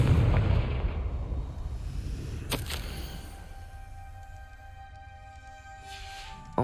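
A Confringo blasting curse in Hogwarts Legacy erupts as a loud explosive burst, with a second sharp blast around mid-clip, its rumble fading before a faint glittery tail at the end.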